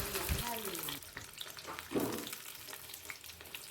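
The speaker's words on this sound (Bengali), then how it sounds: "আমি আলুগুলো প্রথমে তেলে ভেজে নেব নুন হলুদ দিয়ে" Potatoes frying in oil with salt and turmeric for a simple chicken curry, sizzling softly with stirring scrapes, a faint voice briefly at the start.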